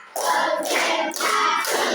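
A classroom of students clapping together in a call-and-response drill, about four loud group claps in quick succession, each with a short ringing tail.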